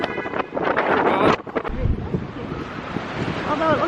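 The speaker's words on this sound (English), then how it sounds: "it's so windy" Strong wind buffets the microphone in loud, continuous gusts on a cold night, with people talking and shouting over it.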